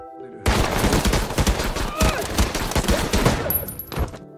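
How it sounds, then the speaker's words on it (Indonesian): Gunfire bursts through a film scene, a rapid fusillade of loud shots with sharp cracks clustered together, with some voices mixed in beneath the volley before it cuts off. "Victor pun memerintahkan polisi di sana untuk menembak Rapi ketika dia berulah."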